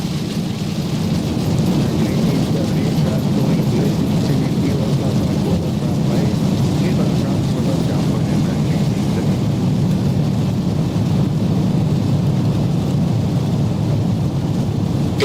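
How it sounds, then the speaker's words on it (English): Heavy rain with a low rumble of thunder and engine roar in the X-Plane 12 flight simulator during a 737 landing at Seattle, a steady loud wash of noise throughout. "look at the rain that's out there"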